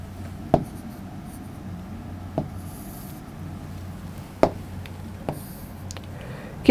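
A pen draws a small box on A4 paper: soft, continuous scratching over a quiet room hum, broken by a handful of sharp taps as the nib lands and lifts, all close up and without talk.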